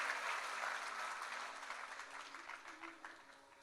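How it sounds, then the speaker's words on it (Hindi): Faint, distant crowd applause welcoming a guest at a religious discourse gathering, steady and softly fading over a few seconds. "एक बार जोरदार तालियों से आपका बहुत बहुत अभिनंदन"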